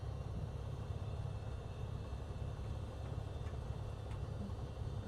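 Steady low engine drone of a Bonanza light aircraft taxiing on the ground, a continuous even rumble with no talk.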